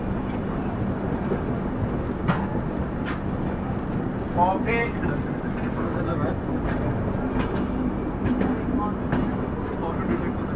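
The Indian 02563 Barauni–New Delhi Clone Express runs on rails with a steady loud rumble and scattered clicks and clacks of the wheels, while a voice talks faintly over it.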